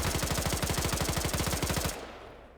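Rapid automatic gunfire in a video game, a fast even burst of shots lasting nearly two seconds before cutting off into a fading tail.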